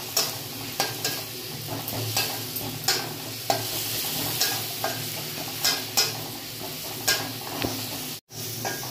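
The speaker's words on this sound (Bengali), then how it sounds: "এবার রসুনের পেস্টটা ভালো করে ভেজে নেবো যাতে রসুনের কাঁচা গন্ধটা কেটে যায়।" Garlic paste frying with onions in a pan, a steady hiss and sizzle punctuated by regular scraping stirs of a spatula, close and fairly quiet, with a brief dropout near the end.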